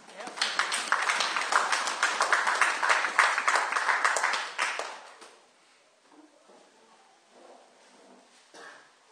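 A church congregation applauding during a sermon on repentance, dense lively clapping for about five seconds that then fades away into quiet room sound with a few scattered claps.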